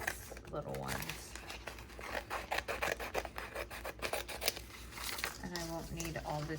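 Scissors snip small pieces from paper for a pocket Moleskine daily planner, a run of crisp cuts and paper rustles close by, with background music or tones underneath.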